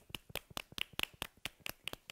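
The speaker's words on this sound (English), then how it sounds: "Let's clap with three fingers" Children in a classroom clapping with three fingers, about a dozen light, sharp pats in a loose steady rhythm, fairly soft and close, with no talk over them.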